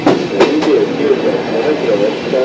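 Old-type passenger coach Suhafu 32-2357 on the Rapid EL Gunma Yokokawa train hauled by EF64 1001 between Takasaki and Yokokawa, heard from inside: a steady rolling rumble with rail joint clicks and faint squeals, loud and close.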